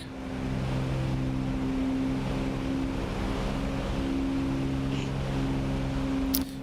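Twin engines of a Cessna 404 Titan in Microsoft Flight Simulator hold a steady, even drone with low tonal hum after the throttles are pulled back, continuous and unchanging, with a brief click near the end.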